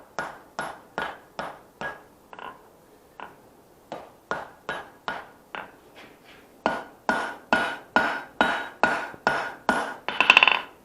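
Repeated ringing hammer blows strike a knife blade on an anvil during forging, a steady rhythm of sharp metallic hits with a brief pause partway through, then growing louder and quicker toward the end.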